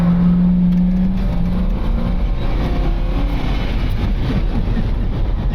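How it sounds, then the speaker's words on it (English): An old long-hood truck's engine roars loudly and steadily while it is power braked, a deep sustained rumble with a droning tone that shifts early on, close and constant with no pauses. "Hold the brake. Now power brake it."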